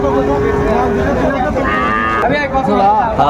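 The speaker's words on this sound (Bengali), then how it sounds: "ষাঁড় বাচ্চা ছোট ছোট ষাঁড় বাচ্চা" A young bull calf moos loudly and continuously up close at the Raniganj cattle market in Dinajpur, a drawn-out bellowing call with people talking underneath.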